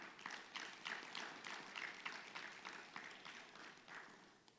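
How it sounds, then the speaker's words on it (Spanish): A church congregation applauding during a sermon, a quiet, rhythmic burst of clapping with evenly spaced claps that fades slightly toward the end. "Dale un aplauso al Señor"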